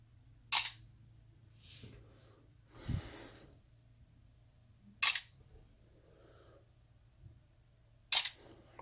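Smartphone camera shutter on a Lenovo S5 taking unboxing photos, three sharp isolated clicks spaced a few seconds apart in a quiet room, with faint soft handling noises and breaths between them.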